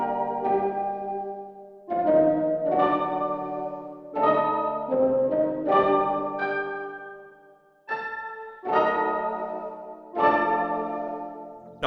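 Two keys one-shot samples layered together play a bell-like chord progression, bright struck tones with ringing decays arriving in uneven clusters, close and full.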